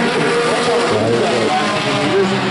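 Race car accelerating hard during a race, chasing for position: loud, continuous engine roar with rising and shifting pitch, close and dense, filling the whole stretch without clear speech.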